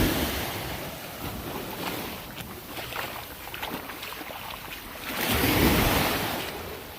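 Ocean surf washes onto a beach along a sand strip by Half Moon Fort and Fryers Well, a steady hiss of breaking waves with wind buffeting the microphone and a louder surge near the end, and no talking.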